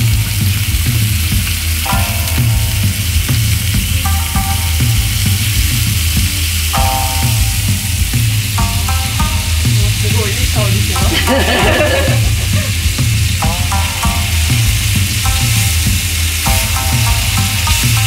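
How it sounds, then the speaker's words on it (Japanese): Food sizzles and fries steadily in a pan at a small, lively local eatery, a continuous loud crackle with recurring scraping and stirring clatter on top and no talking. "焼くときもそのまま味付けなしで焼いて強く振りながら"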